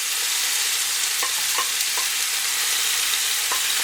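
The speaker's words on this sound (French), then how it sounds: "quand ça chauffe, on vient verser ici donc les oignons, les poivrons et le piment." Onions, peppers and chili frying in hot oil in a pan, giving a constant loud hiss with a handful of light stirring clinks, close up and without speech.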